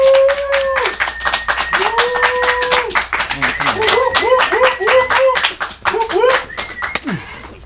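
Live comedy show audience clapping and cheering to welcome a comedian to the stage, dense close applause mixed with whoops and a voice speaking over it.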